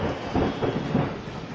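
Thunder during a big storm, a deep low rumble rolling continuously and fairly loud throughout, with no voices over it.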